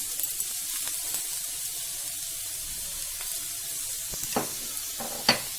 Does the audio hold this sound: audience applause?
no